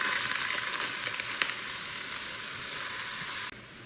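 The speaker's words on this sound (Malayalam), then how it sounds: "അപ്പം നമുക്ക് അരി ജസ്റ്റ് ഇങ്ങനെ വറുത്തെടുക്കാം" Rice roasts in a pan for prawn biryani, giving a steady, even sizzle with a faint stirring tick. The sound cuts off abruptly near the end.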